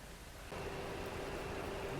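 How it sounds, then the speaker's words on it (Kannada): Rain begins during a train journey from Bengaluru to Dandeli, a steady broadband hiss that comes in abruptly partway through and holds at an even level, with no talk. "ಮಳೆ ಸ್ಟಾರ್ಟ್ ಅದ"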